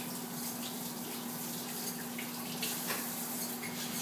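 Tap water runs steadily into a sink while mixer arms are rinsed, a continuous close rushing hiss with a faint hum underneath and no speech.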